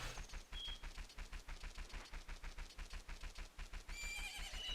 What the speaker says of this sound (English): Also, I find it very odd that you just took the girl's horse. You just took Epona.